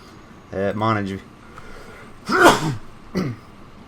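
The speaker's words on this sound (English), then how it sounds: "Every time I start recording, I get about 10 minutes in and then I have to sneeze." A single sharp, loud sneeze close to the microphone, preceded by a short burst of voice and followed by a brief sniff or throat sound, in a quiet indoor room.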